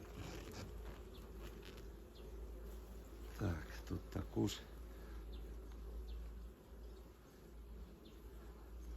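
A steady insect drone of many honey bees buzzing in an open hive fills the clip, with a few brief louder rustles and knocks partway through.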